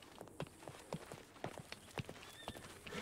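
A horse in a Red Dead roleplay video game clops along in an uneven rhythm of hoofbeats, fairly close and quiet, with a faint snort or whinny and no one talking.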